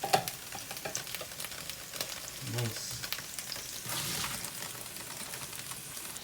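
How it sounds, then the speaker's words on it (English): Onions sizzle as they fry in olive oil for a vegan Haitian legume, a steady close crackle with occasional stirring, and a voice briefly speaks. "She's frying the onions right now to add it to the legume."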